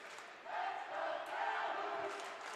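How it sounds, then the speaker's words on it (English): Football crowd from Calhoun cheering in the stands at a high school game, a broad distant roar that swells and holds steady for a couple of seconds. "You can hear the Calhoun crowd that's come up from the west side of Long Island."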